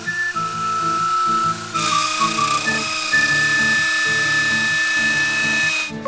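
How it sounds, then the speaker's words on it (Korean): A power tool whines steadily up close as it carves a wooden plate, a continuous, buzzing drone with little change in loudness. "나무 접시를 만들고 있는데요."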